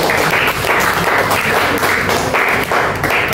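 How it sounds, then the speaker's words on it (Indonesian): A class gives applause for group 1 during a practice-teaching session, loud close-up clapping with a rhythmic, pulsing pattern that stays dense throughout. "kita berikan dulu tepuk tangan untuk kelompok 1"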